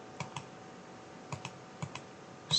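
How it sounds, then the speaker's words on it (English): Computer keyboard keys pressed while modelling a cup in Maya 2023, a handful of sharp separate clicks in quick pairs spread across a quiet room, close and fairly crisp. "On your keyboard press shift"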